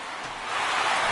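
Steady rain falls in a baseball video game, a dense broadband hiss that swells slightly over a short stretch, heard alone.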